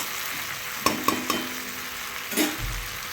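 Prawn curry with sour yogurt fries in a pan, a steady close sizzle broken by a few sharp metallic taps of a spatula against the pan and a brief scraping stir, with no voices.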